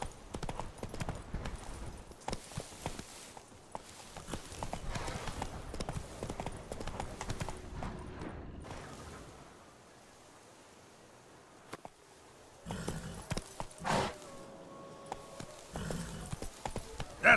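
Roach the horse gallops in The Witcher 3, hooves clip-clopping in quick rhythmic beats with rustling, then briefly dropping to near silence before a short burst of hoofbeats and a whinny-like sound returns.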